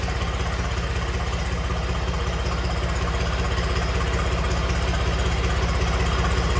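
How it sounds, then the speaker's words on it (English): A John Deere 300 backhoe engine idles steadily and loudly up close, a continuous low, throbbing drone with a faint knock in its pulse and no voices. "Just heard the RPM slow down and the tone change, so I believe that means that that pump just picked up oil."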